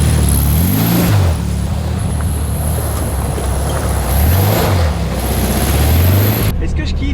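A Volkswagen Beetle prepared for off-road use drives through a roundabout, its engine droning loudly and close with rising and falling revs, under strong wind noise, while a person talks over it.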